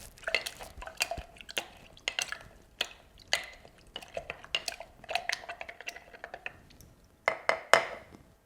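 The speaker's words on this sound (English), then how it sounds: "Now muddle the ingredients." Muddling blackberries, lime juice and simple syrup for a cosmopolitan cocktail: a series of close, sharp knocks and clinks of a muddler against a glass, irregular taps with brief pauses, ending in a louder cluster of clinks.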